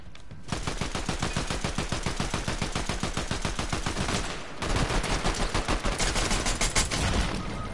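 Rapid automatic gunfire rattles continuously in the Fortnite video game, loud and close, with a brief pause partway through before another long, steady burst of shots.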